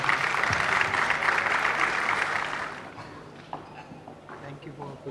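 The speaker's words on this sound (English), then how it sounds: "Round of applause for him" Crowd applause fills the first half, dense and steady, then fades out, leaving scattered footsteps and light background noise.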